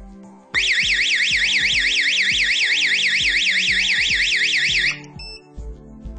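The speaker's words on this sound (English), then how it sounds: "When you plug it in, an alarm will sound." A loud, rapidly warbling electronic alarm from an LCD2007 security keypad, sounding when powered up, blares for about four seconds, then cuts off, with soft clicks underneath.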